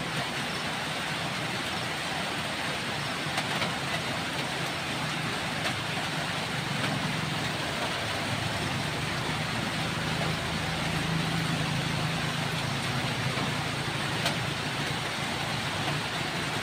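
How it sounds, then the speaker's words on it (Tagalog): Steady roadway traffic with motorcycles passing on a nearby road, a continuous broadband rumble and engine drone that swells gently as vehicles go by, with no voices. "Ang daming dumadaan na motor po dito."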